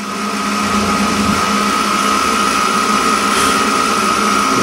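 A compact power hacksaw cutting metal makes a loud, steady high-pitched mechanical whine with a constant tone, close and unbroken, with no talking.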